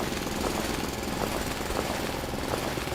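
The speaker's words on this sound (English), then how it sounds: "We didn't have to do all this drilling." Heavy mechanical drilling in the video game Foundry, a continuous loud grinding rumble with rapid pulsing bursts, steady throughout and without speech.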